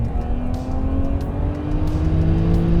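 A road car fitted with Formula 1 tyres and carrying two passengers accelerates hard from a standing start, its engine note climbing steadily in pitch as it pulls through the gears, loud and close throughout.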